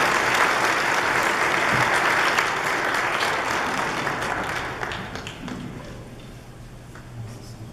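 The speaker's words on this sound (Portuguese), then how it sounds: "Dá uma salva de palmas para essa família." A church congregation claps for a family, a broad wash of applause that starts full and gradually thins and fades over several seconds, with a few scattered claps trailing at the end.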